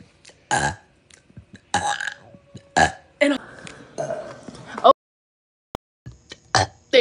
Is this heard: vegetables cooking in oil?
no